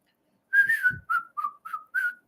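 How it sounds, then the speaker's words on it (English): Someone whistles a short tune of six clear notes, close and alone, with brief pauses between phrases. "I whistle while I work."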